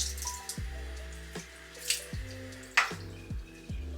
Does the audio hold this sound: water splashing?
yes